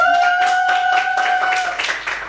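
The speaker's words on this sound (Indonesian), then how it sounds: "Tepuk tangan." Hand clapping from students in a tenth-grade Arabic classroom, a short run of rhythmic claps over a steady electronic hum.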